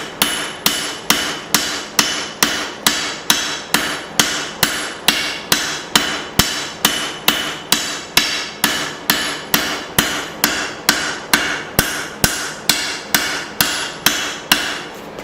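Straight peen hammer striking a hot Bowie knife blade on an anvil, a long steady run of loud, evenly spaced metallic blows, about two per second, close and without talk.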